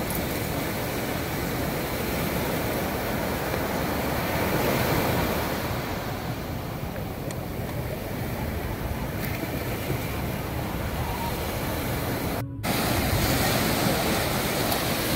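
Sea surf roars at Puri beach, a dense, continuous rush of breaking waves with wind buffeting the microphone, loud and steady throughout with no clear speech.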